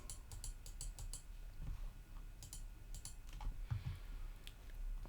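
Computer keyboard keys tapped in short bursts while editing a cell in an Excel spreadsheet, light close clicks with brief pauses and a final keystroke, over a low room hum.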